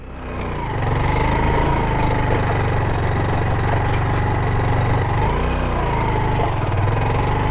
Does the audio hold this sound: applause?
no